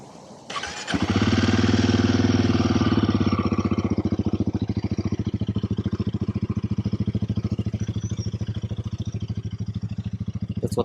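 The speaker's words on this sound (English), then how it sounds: "That's what the bike sounds like." A Royal Enfield Himalayan 450 motorcycle with stock exhaust starts up close by, revs briefly, then settles into a steady, loud, rhythmic idle putter.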